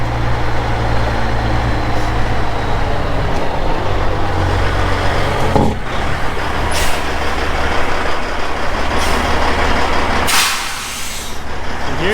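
A heavy truck idles and rolls in at close range, its low diesel rumble constant, with sharp hissing bursts like air brakes releasing near the end.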